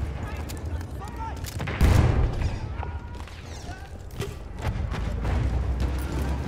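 Grenade explosions in the World War I shooter Battlefield 1, several heavy booms and cracks of gunfire scattered across the battlefield, one especially loud blast near the middle, with distant combat rumbling in between.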